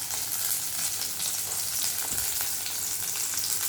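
Onions sauté with a little salt in a pan for mushroom pepper fry, giving a close, constant crackling sizzle with a faint stir partway through.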